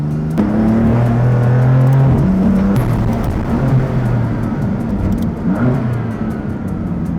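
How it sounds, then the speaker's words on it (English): A car fitted with an upgraded DCT shifter drives and accelerates hard, its mid-pitched engine revving loudly and steadily close by, with audible gear changes shifting the engine note throughout. "this car is way too fun to drive, so we're gonna go have a good time"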